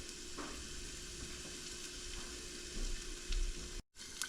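Noodles sizzle and crackle in a hot pan as they are broken apart, a steady close frying hiss with a few soft stirring scrapes, no one speaking.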